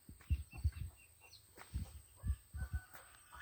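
Chickens cluck softly and intermittently in a wooded area near a rural home, a series of faint, close clucks spaced irregularly over quiet background.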